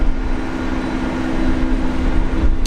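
A ten-year-old Jetstar Boeing 787 Dreamliner at Brisbane International Airport gives off a steady, broad engine roar with a low droning hum, heard at a distance and continuous throughout, with no voices.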